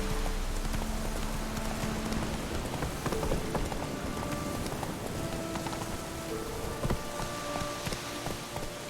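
Horse hooves clip-clopping at a steady walking pace in The Witcher 3 video game, heard mid-distance under a constant wash of rain, with no voices.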